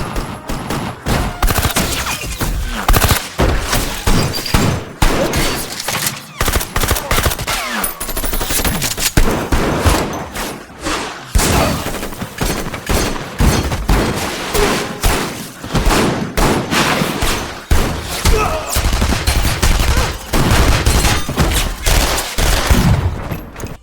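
Gunfire from the Baby Driver film scene, a dense, loud barrage of rapid shots and thumps pulsing in rhythm with the music for over twenty seconds.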